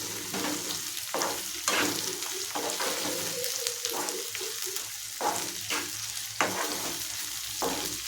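Eggplant pieces fry in hot oil for vankaya barbati curry, a steady sizzle broken by repeated scraping stirs of a spoon in the pan, close and fairly loud with no voices.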